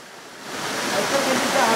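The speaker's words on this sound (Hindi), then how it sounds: "इधर देखिए आप लोग, काफी ऊंचाई पे बना हुआ यह फॉल है" Dense, loud roar of Tanda waterfall in Mirzapur, Uttar Pradesh, a high fall surrounded by trees and hills, swelling steadily and heard close without talk.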